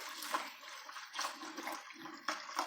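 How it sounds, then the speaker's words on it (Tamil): Water is poured into a cooking vessel to rinse it, heard as a few soft splashing gushes in quick bursts, fairly quiet and close, with no voices. "கொஞ்சமாக தண்ணி சேர்த்து கழுவி ஊற்றிக்கலாம்."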